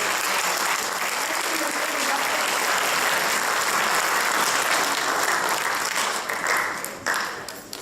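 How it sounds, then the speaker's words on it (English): An audience at a senior class awards ceremony applauds loudly and continuously, a dense wash of clapping that thins out and fades in the last seconds. "Let's give a big round of applause."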